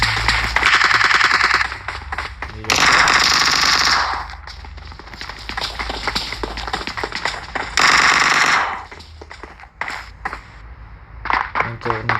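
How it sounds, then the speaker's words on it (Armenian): Rapid automatic gunfire from the mobile battle royale game PUBG Mobile, loud sustained bursts alternating with shorter volleys and single shots over about twelve seconds, with someone talking over parts of it. "Են կողնից է այդ կրակելու ձենը։"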